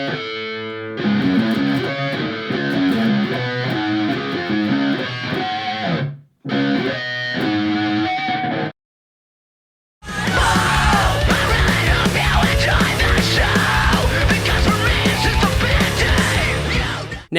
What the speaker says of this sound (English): There is actually an added pinch harmonic, it's called, to the riff.